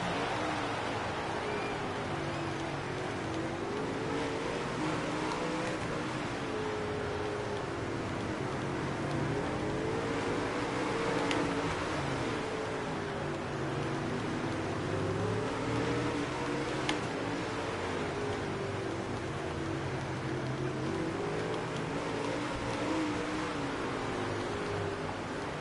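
Sprint cars race at a World of Outlaws event, their engines making a continuous, droning roar with rising and falling pitch sweeps as cars circle the track, heard from a distance as a steady wash of noise.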